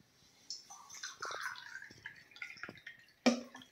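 pH 7 buffer solution poured into a small 100 ml glass beaker, a faint, quiet trickle with soft dripping and splashing, ending in a sharp clink near the close.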